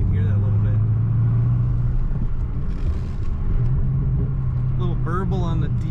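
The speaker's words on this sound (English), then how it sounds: "Very nice exhaust sound too. Put the window down, you can hear that a little bit." A 2007 Ford Mustang Shelby GT500 exhaust drones steadily as the car drives, heard from inside the cabin with a window down as a continuous low rumble, with a person talking briefly near the end.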